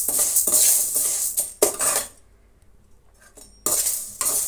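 Toor dal fries in a pan as a metal spoon scrapes and clinks against it, loud and close in bursts, then a quieter gap before the scraping and rattling return; no talking.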